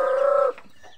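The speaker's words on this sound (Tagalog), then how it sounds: "Ang daming manok." A single drawn-out, tonal call from a chicken among many chickens kept near a garden, loud and clear for half a second, followed by faint scattered clucks and quiet background.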